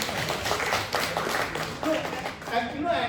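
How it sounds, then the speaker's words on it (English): Seminar attendees at a hotel in Gangtok give a round of applause, scattered claps rising and falling while people keep talking over them. "please give her a grand round of applause"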